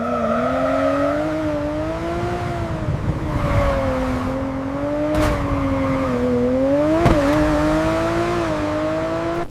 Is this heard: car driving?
yes